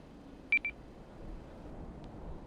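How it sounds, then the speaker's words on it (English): A Fallout 4 proximity alert for a nearby normal enemy: a quick pair of clean electronic beeps, then one fainter blip a moment later, over a quiet background hiss. "When a normal enemy is close by, it sounds like this."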